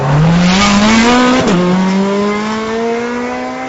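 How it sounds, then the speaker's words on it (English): A 2009 Ferrari 430 Scuderia engine revs loud and close, its pitch climbing steadily through the gears with a brief dip as it shifts, then rising again, alone with no talk. "the engine makes the most astonishing noise"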